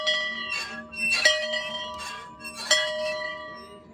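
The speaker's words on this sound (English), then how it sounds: "And then I gotta ring the bell" Bright metallic bell at a wishing well in an outdoor Christmas village, struck three times with clear ringing overtones that decay between strikes, loud and close.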